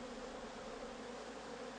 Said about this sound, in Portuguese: as abelhas voltam a trabalhar para fechar o buraco